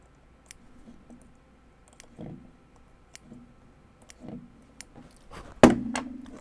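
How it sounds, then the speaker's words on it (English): Scattered small clicks and soft snips come from cotton wick being trimmed for a SMOK TFV12 vape coil build, ending in one louder thunk, all close and otherwise quiet. "I'm giving it a little bit of a trim"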